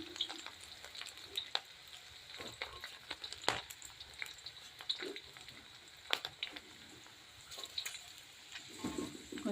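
Beans, garlic and green chilies fry in hot oil for veg noodles, a soft, fairly faint sizzle broken by irregular stirring clatters and scrapes.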